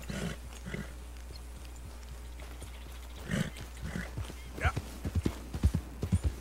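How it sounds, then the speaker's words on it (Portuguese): Hoofbeats of a spotted Kentucky Saddler horse in Red Dead Redemption 2, soft clip-clop steps building into a quicker irregular rhythm, with low horse snorts and quiet game ambience underneath. "Bonito esse cavalo, hein? Cavalo lindo, um Kentucky Saddler aí malhado."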